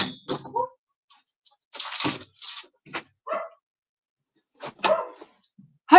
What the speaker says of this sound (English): She's got a very loud bark.